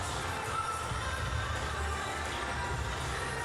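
A volleyball crowd at Hinkle Fieldhouse during a Butler home opener gives off a steady, distant murmur of many voices with faint shouts, continuous and fairly quiet throughout.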